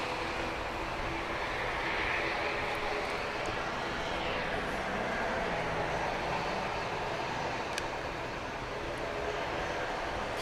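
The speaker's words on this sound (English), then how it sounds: "I hear the FedEx feeder firing up." FedEx feeder aircraft engines firing up at Grand Cayman airport, a steady distant whine and rumble over a constant outdoor roar, with faint clicks scattered through.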